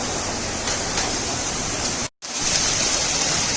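Hail pours down outdoors in a dense, unbroken hiss of countless small impacts. The sound is loud and steady, with a sudden brief cut-out before it resumes just as strongly.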